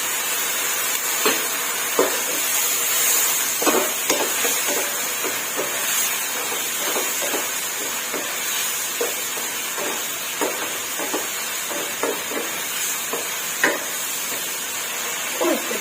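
Fresh shrimp stir-fry in a pan with nam prik pao chili paste and mild red chilies, giving a continuous close sizzle and hiss. Irregular scraping stir strokes recur every second or so.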